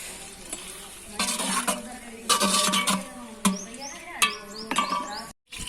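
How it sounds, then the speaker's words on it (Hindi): Onions fry in ghee in a pot for a village Muharram langar in Pakistan, giving a quiet sizzle broken by bursts of scraping and clattering as the pot is stirred. "प्याज हमारे फ्राई हो गए हैं।"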